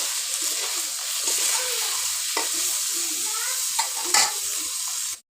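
Freshwater fish frying in a pan with a steady, close sizzle of hot oil and a few stirring scrapes, bound for a curry with ash gourd.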